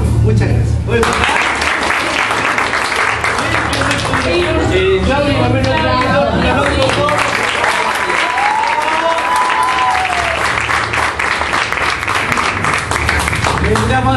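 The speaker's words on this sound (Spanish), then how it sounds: "un aplauso" Audience applause at a gathering, loud sustained clapping from a crowd with cheering and voices layered over it throughout.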